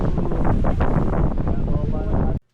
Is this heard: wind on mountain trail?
yes